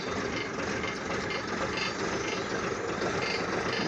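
An AEC Matador lorry's 7.7 diesel engine idles steadily with a continuous, even low rumble and no pauses or change in pace.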